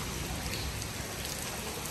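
Hail falling outside a house by a yard with bird feeders, a dense steady patter of small hits on surfaces, continuous and fairly loud throughout, with no voices.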